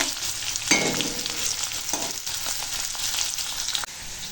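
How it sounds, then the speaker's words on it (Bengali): Pointed gourd and teasel gourd frying in oil in a pan, a steady close sizzle with occasional louder bursts and stirring clatter, no voices. "পটলটা প্রায় ভাজা হয়ে গেছে প্রায় আবার ভাজা হয়ে গেছে কাঁকরোলটা এবার তুলে নেব"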